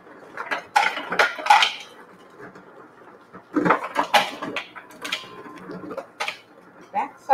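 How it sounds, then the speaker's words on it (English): Ice cubes clink and rattle against a bowl of water in a home kitchen, in irregular bursts of bright clatter separated by quieter pauses. "sorry for the ice noise"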